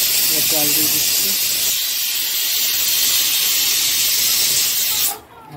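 Water poured into a hot pan of Bengali fish curry with mustard paste hisses loudly and steadily for about five seconds, a dense steamy sizzle that cuts off abruptly near the end.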